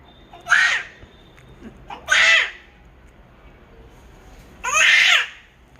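Parrots being fed let out three loud, harsh squawks, each about half a second long, separated by quiet pauses.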